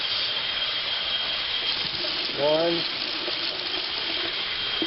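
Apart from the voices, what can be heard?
tap water rinsing sprouting seeds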